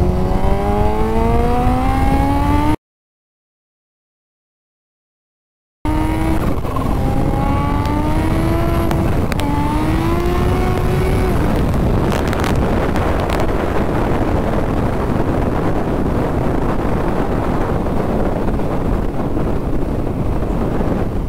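Yamaha FZ1 motorcycle accelerating hard in a second gear burst, the engine note climbing in loud rising sweeps that build into a roaring, wind-buffeted rush, broken by a short gap early on.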